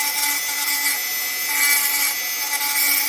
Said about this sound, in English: I have the Dremel on a very low setting because don't want to overheat the stone.